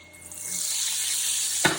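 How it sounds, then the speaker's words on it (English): Mushrooms frying in a pan, a soft hiss that swells gradually and is broken near the end by one sharp clatter or stir. "I'm making them, frying up some mushrooms"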